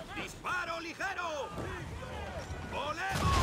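Ship cannons firing in Assassin's Creed III during a naval battle, several heavy booms in quick succession, mixed with shouted voices and battle noise.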